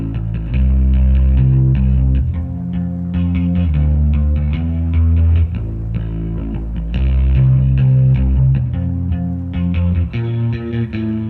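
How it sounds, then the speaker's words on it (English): A bass guitar line for a Russian post-punk style beat: a heavy, driving low melody of repeated notes with some edgy grit, playing continuously and loudly for about eleven seconds. "So I started this track off with the bass"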